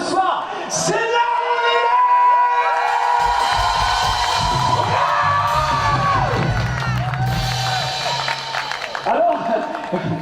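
A large church congregation at an outdoor evening revival service shouts and cheers loudly and continuously, with whoops and a preacher's voice carrying over the sustained crowd roar.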